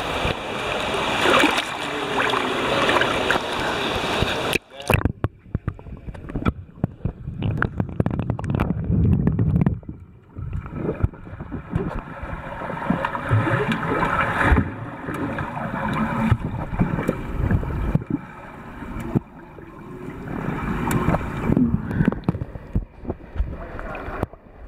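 Underwater recording of breaststroke swimming in a school swimming pool, with continuous muffled splashing and churning water that rises and falls through the stroke cycle, broken by one brief gap.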